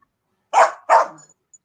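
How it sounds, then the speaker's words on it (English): A puppy dog gives two quick, sharp barks in close succession, heard clearly and alone against an otherwise silent background. "And we can hear your puppy dog."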